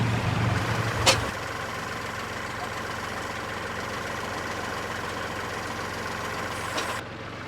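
A tractor with forks sits running near, its steady medium engine idle droning on without change, a sharp clank sounding once early and a fainter knock near the end.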